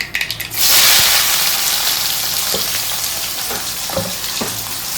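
Chopped onions and green chillies dropped into oil after mustard seeds have popped, a few crackles then a loud rushing sizzle that steadies, with scattered spatters and stir knocks, close up with no talk.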